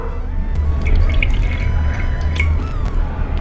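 Water is poured into a mixer grinder jar for grinding snack batter, a close trickle with scattered drips and splashes over a steady low background hum.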